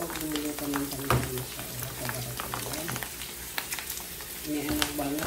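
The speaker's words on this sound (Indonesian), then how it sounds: "Kita goreng kelupuk dulu teman-teman." Kerupuk crackers frying in hot oil with a steady low sizzle and crackle, joined by occasional clinks of a utensil, while a person talks over the cooking.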